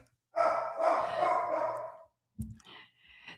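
Dogs barking and yelping in a burst of overlapping barks for nearly two seconds, fairly close, followed by a brief pause and a few quieter, shorter yaps with other noise.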